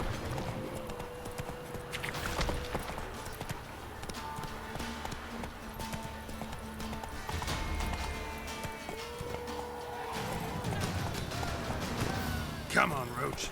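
Hooves of the horse Roach clip-clopping in a steady galloping rhythm in The Witcher 3, with game sounds and effects layered over the hoofbeats.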